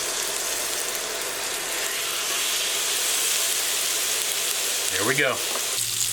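Food hits hot bacon fat in a pan, giving a loud, steady hiss and sizzle that keeps going throughout, with a brief spoken remark near the end.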